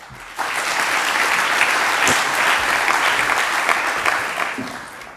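Audience applause at a round-table launch event as a speaker is introduced, a dense, loud burst of many hands clapping that starts abruptly and holds steady before tapering off.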